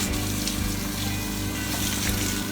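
Water from a hose or tap washes granular N-Ext RGS and Air-8 fertilizer into lawn grass, a steady continuous splashing and rushing flow close by with a low rumble underneath, heard alone without talk.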